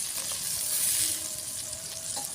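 Water hits a frying plantain curry in a hot pan, giving a loud, continuous hissing sizzle with stirring, steady and close throughout; no talking.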